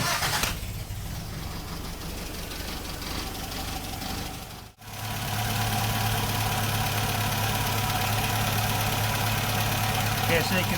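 A Triumph TR4A with HS6 carburetors cranks and catches, then settles into a steady, close idle with an even mechanical hum, briefly going quiet at the moment it starts before the engine note steadies.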